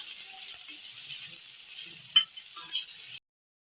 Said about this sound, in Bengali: এখন সবগুলো খুব ভালোভাবে ভেজে নেব।